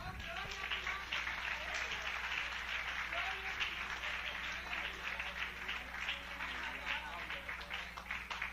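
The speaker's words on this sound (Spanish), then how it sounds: "Dale un aplauso al Señor." Congregation applause during a Spanish-language Christian church service, a steady wash of clapping held at an even level for several seconds over a low hum, with a faint voice underneath.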